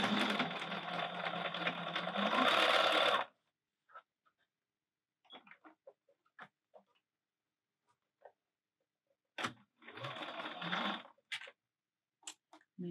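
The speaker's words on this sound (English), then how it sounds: "Don't want to sew over a pin." A sewing machine stitches a mesh bag in two close, loud bursts of rapid mechanical whirring, separated by light clicks and handling noises, with no talk.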